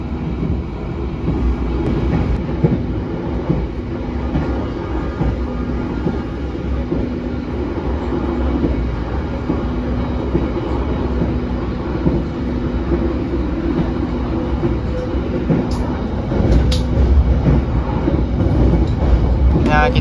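The KA Harina passenger train runs at over 100 km/h, with a loud continuous rumble of wheels and carriage noise, rhythmic rail clatter and brief metallic squeals near the end, heard from inside.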